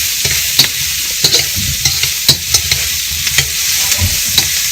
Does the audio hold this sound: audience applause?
no